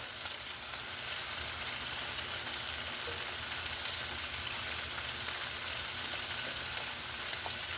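Onions sizzle steadily in hot oil in a pan for beef and broccoli, a continuous close crackling hiss with no talking.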